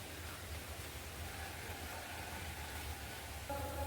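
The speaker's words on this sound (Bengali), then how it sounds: "বাইরে কেমন বৃষ্টি হচ্ছে দেখো" Steady rain falls outside under dark, heavy clouds, a continuous soft hiss that fills the whole stretch at an even level, with no other clear sounds above it.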